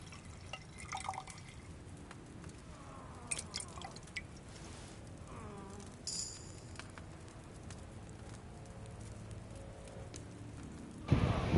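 Liquid poured and dripping while brewing in Kingdom Come: Deliverance II, faint scattered drips and splashes over a quiet background, with a louder burst at the very end.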